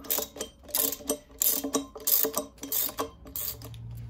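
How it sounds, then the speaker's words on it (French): Wrench ratcheting sprocket bolts loose on a Brixton BX 125 motorcycle with the rear wheel removed, a close series of rapid clicking pawl bursts in uneven strokes, loud and alone. "avec une clé de 14, vous allez pouvoir dévisser votre couronne."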